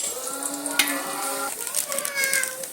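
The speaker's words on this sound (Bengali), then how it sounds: "পেঁয়াজগুলো তেলের মধ্যে দিয়ে পেঁয়াজগুলো সুন্দর করে লাল লাল করে ভেজে নেব।" Thinly sliced onions fry in hot oil until browned, a steady close crackling sizzle that runs throughout, overlaid with sustained tonal, voice-like sounds.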